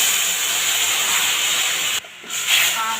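Sour liquid poured into hot oil tempered with black mustard seeds and fennel, giving a loud, steady sizzling hiss that cuts off abruptly and then resumes with softer crackling as the pouring settles.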